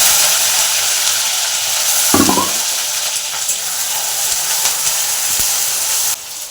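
Meat dropped into caramelising sugar in a home kitchen pan, a sudden loud sizzle bursting out over a steady frying hiss that carries on without talk.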